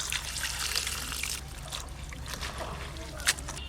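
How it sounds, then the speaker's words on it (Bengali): Cabbage washed in water, splashing and trickling up close with soft watery rustles. "বাঁধাকপিগুলো ভালো করে ধুয়ে নেব।"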